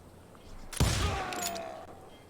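A burst of gunfire erupts during a video game shootout in a Wild West setting, one loud crack followed by a ringing tail, short and close.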